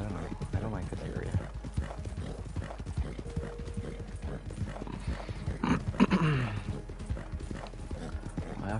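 Horse hooves clip-clopping in Red Dead Online, steady rhythmic steps under near-continuous talk, with a short neigh-like sound around the middle.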